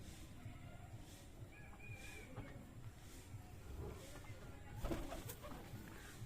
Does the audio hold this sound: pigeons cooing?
yes